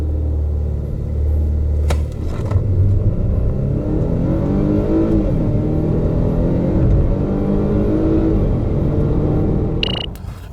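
A 2019 Volvo S60 T5 with a 2-litre engine and automatic transmission accelerates hard, its loud engine note climbing steadily through rising revs with a shift partway, continuous and close without talk.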